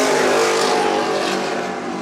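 Racing powerboats at the Key West championship roar in close together, a loud, continuous broadband engine drone that swells and holds steady as the boats approach, with no voices over it.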